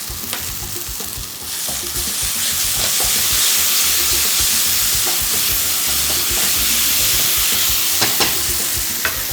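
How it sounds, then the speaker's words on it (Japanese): Chicken and potato seasoned with salt and pepper stir-fry in a pan for a Japanese-style samosa filling, a loud continuous sizzle broken by scattered scraping clicks of a utensil, with no talking. "他のもうちょっとだけ炒めていきます"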